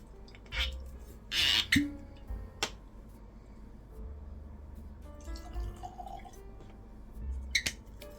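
Glenfiddich 15 whisky pours briefly from a bottle into a glass, with a few drips and soft clinks afterward in a quiet room.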